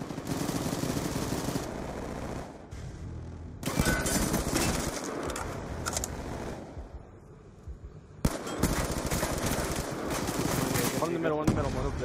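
Rapid bursts of gunfire crackle through a Hardpoint match in a video game, with dense automatic fire in repeated stretches separated by short lulls, alongside player chatter.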